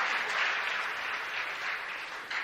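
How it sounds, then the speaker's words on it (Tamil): Students in a hall break into sustained applause, a dense, steady wash of many hands clapping at moderate distance with no voices standing out. "மாணவர்கள் அதிகமாக கைதட்டுகிறார்கள் என்று நான் கருதுகிறேன்"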